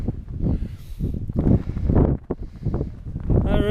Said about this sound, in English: Got the wind against us as well, haven't we?